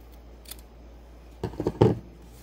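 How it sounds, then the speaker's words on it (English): Scissors or snips cutting craft ribbon for a paper card kit: a few quick, close snipping clicks in a short cluster, over a quiet room background. "Take my snips or scissors"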